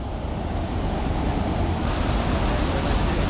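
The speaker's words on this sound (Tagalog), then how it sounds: "Ang lakas ng agos hanggang doon." A strong river current rushing at a waterfall makes a dense, unbroken roar of water, close and loud, with a wind-like hiss layered over it and nobody speaking.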